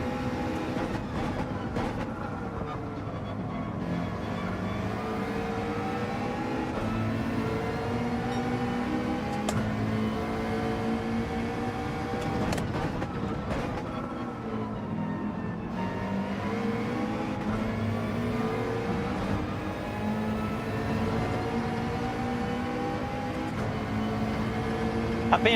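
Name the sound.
McLaren race car engine in Gran Turismo 7 video game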